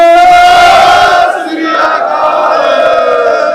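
At a Sikh political rally, a lead voice shouts the Bole So Nihal call, loud, close and sustained, followed by a crowd roaring the jaikara response as a broad, rough shout.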